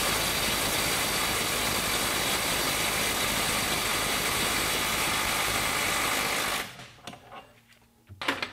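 A cordless impact wrench running in reverse mode hammers in a loud, rapid, continuous rattle for about six and a half seconds, then stops, leaving a few faint clunks and handling noises.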